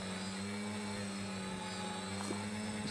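An FPV drone hovers near the ground after a throttle flick to about 50%, its propellers holding a steady, loud buzzing whine with a constant low hum throughout, close and unbroken.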